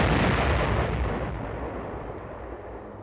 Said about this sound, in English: They get to know the smell of powder and the crashing roar of heavy guns.